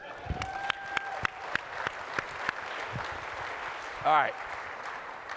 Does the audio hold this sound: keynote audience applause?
yes